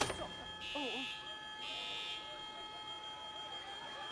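Two bursts of a harsh electronic alarm buzz sound faintly in a room, with a person speaking under and between them.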